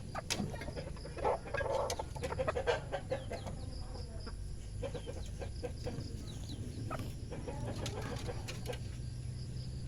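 A wild jungle fowl and a hen cluck repeatedly in short bursts, close by, with a few louder squawks among steady farmyard background noise.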